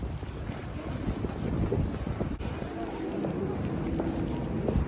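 Cold wind blows outdoors in Nagoya, Japan, a continuous low buffeting rush across the microphone with gusty rumble, steady throughout and with no speech.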